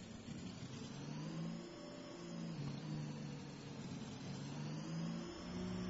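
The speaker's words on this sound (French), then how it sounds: "ce bruit du buggy là" A buggy engine in Farming Simulator 22 hums and revs steadily in a muffled, game-generated tone, its pitch rising and falling gently with no pauses.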